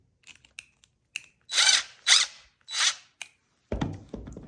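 A small power tool twists a wire nut onto electrical wires, giving three short whirring bursts between light clicks and plastic taps, then a few dull handling knocks at the end. No one speaks.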